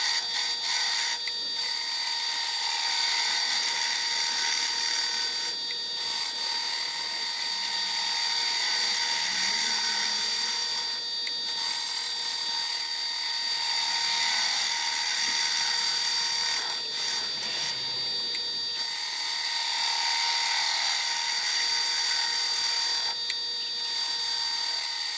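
A wood lathe spins while a tool shapes the foot of a mesquite bowl, giving a continuous loud whirring hum with a steady scraping hiss and brief dips as the cut eases off.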